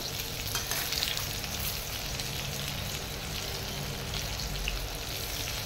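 Eggplant slices fry in hot oil in a pan for begun bahar, giving a steady, close sizzle with a constant crackling hiss throughout and no talking.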